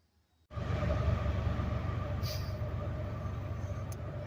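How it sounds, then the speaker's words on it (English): After a short silence a train abruptly becomes audible beside a wooded trail, a steady, moderately distant rumble with faint high squeals, continuing without pause to the end. "Well, the train finally left"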